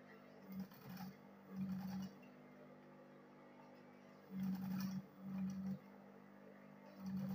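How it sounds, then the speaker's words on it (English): A sewing machine stitching the back cover of a bible: several short, faint bursts of motor hum with stitching, separated by quiet pauses. "So after sewing this one this way, I will still turn it over to this side to sew it again."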